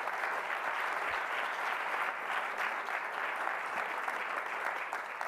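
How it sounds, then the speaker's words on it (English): Steady audience applause at a democracy and elections conference, a dense, even wash of clapping from a large crowd sustained throughout without speech. "Let's give a round of applause to all of those commitments that were made today."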